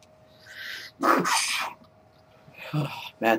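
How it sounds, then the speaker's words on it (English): Someone has a sneezing fit, several sharp sneezes with breathy intakes spread across a few seconds against a quiet background hum. "Bad time for a sneezing fit."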